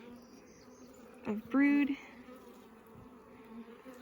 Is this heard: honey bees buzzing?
yes